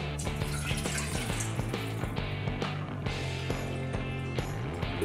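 One and a half cups of water poured from a container into a pan of fully cooled oil, a steady continuous liquid pour, close and fairly loud, with background music throughout.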